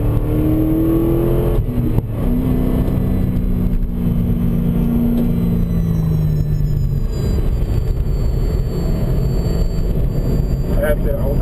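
A race car's engine drones loud and continuous as it carries through a long-duration apex corner after a chicane on a track, its pitch sliding gradually downward before holding steady.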